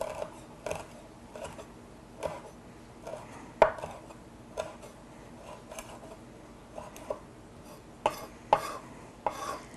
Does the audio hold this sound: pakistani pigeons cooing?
no